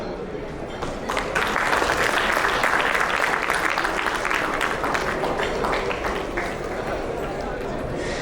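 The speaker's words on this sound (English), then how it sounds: "Please give a round of applause to Mr. Sivakaran Kanagaratnam." An audience at an annual community get-together gives a loud, sustained round of applause for a career achievement award recipient, swelling in after a moment and staying thick and continuous with crowd noise.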